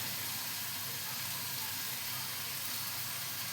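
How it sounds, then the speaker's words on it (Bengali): Bombay duck (lote) fish dropped into hot oil already cooked with onion and garlic, giving a steady, even sizzle and hiss that runs close and unbroken, with no voices over it. "এই যে লোটে মাছগুলো দিয়ে দিচ্ছি"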